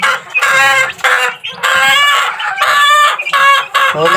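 Young chicks kept as pets chirp and cluck together in a steady, continuous chorus, close and fairly loud, with brief dips between bursts of calls and no talking.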